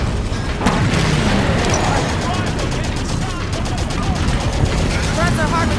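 Mortar blasts and gunfire in the Halo 5: Guardians video game form a dense, continuous barrage of booms and rapid shots with little letup. A voice talks over the fighting.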